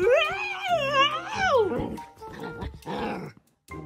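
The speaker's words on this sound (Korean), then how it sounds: "미친 강아지 아니야 이거?" Dog sounds from the Minecraft video game, short yelps and whimpers, come through loud and close amid excited, overlapping talking and laughter from several people.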